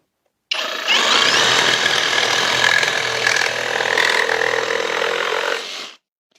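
A Bosch GSA 18V 28 cordless reciprocating saw with a bimetal blade cuts through a wooden pallet board with nails driven into it. The loud, continuous buzzing rasp runs for about five seconds before stopping abruptly, with no talk.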